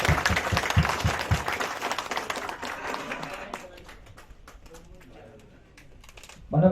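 A group at a neighborhood community gathering claps together, a dense burst of applause that is loudest at the start and fades over several seconds, with voices talking underneath.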